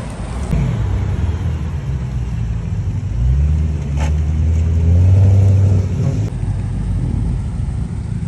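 A 1,000-horsepower Bisimoto Racing Honda Odyssey engine at a Cars and Coffee meet rumbles steadily at close range, then swells through two rising revs before settling back, with no talk over it.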